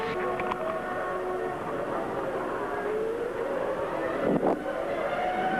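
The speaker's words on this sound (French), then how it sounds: "voilà la Ferrari de Michael Schumacher, premier tour en dehors des pits" Michael Schumacher's Ferrari Formula 1 car leaving the pits during qualifying at the 1996 Argentine Grand Prix, a distant engine whine rising in pitch beneath crowd and ambient noise.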